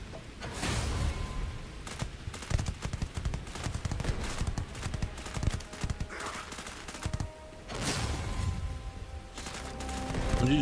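Rapid gunfire in the sci-fi video game Starfield, bursts of shots and impacts crackling densely through most of the stretch, with a loud burst near the start and another near the end, no talk over it.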